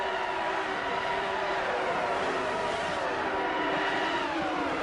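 Classic racing cars driving side by side in a racing video game, a loud, continuous engine roar with steady whining tones and no pauses from start to finish.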